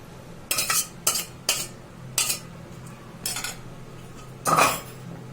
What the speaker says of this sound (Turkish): Şimdi haşlanan etimizi döküyoruz.